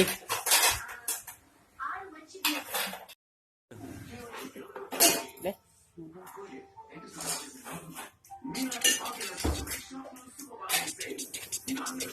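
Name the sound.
spoon clinking against a vessel while serving holy water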